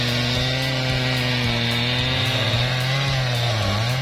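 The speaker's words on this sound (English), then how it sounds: "That massive Trembesi tree, soon to be transformed, is being taken down by what looks like the king of chainsaws, the Stihl MS-881." A large Stihl MS-881 chainsaw cuts through a massive Trembesi tree with a loud, continuous engine drone, its pitch dipping and rising as the chain bites into the wood.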